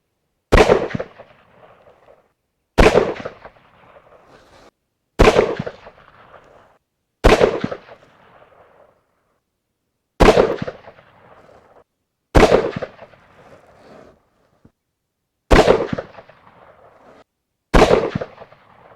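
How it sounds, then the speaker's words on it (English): A .30-06 rifle is fired at small reactive targets 100 metres downrange. Eight loud, sharp cracks come at intervals of roughly two to three seconds, each trailing off in a brief outdoor echo, with no talking. "Got the last couple of rounds of the 30-06 down 100 metres, just a couple of little reactive targets."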